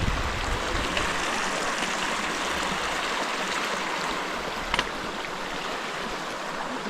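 Stream water rushing steadily close by while someone wades across, a constant loud hiss and babble with a brief splash near the end.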